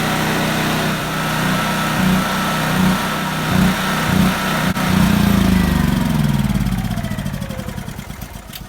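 A portable generator engine running on high until it runs out of fuel, a loud close drone with a rhythmic pulsing that surges, then slows into sputtering, widening beats as it dies.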